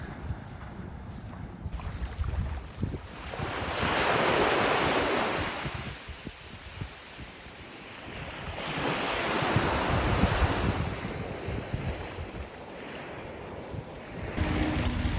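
Ocean surf on a beach at Benalmadena, Spain, with waves swelling and breaking in two long rolling surges, steady wind noise buffeting the microphone throughout and no talking.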